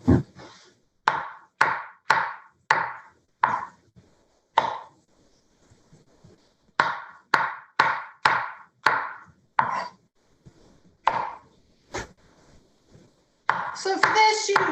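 A knife slicing an onion into quarter-inch slices on a cutting board, a series of crisp close chops in quick bursts with short pauses between runs.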